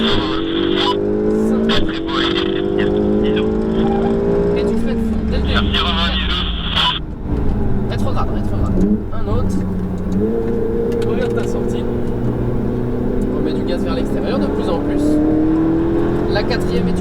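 A Ferrari 488 GTB on a race track at Fontenay-le-Comte revs and accelerates through rising gear pulls, its engine loud and sustained under an instructor's coaching voice throughout.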